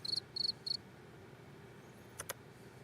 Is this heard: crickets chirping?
yes